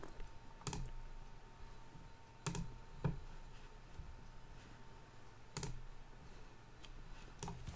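Sparse clicks and taps on a computer keyboard while a file name is typed into a save dialog, a few sharp isolated strokes spread over several seconds above a low steady hum.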